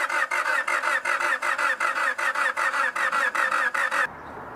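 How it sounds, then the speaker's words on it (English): A Honda Civic that will not start cranks over steadily: a rapid, even rhythmic whirr of the starter turning the engine, about a dozen pulses close by and loud, stopping abruptly. "Now crank the engine."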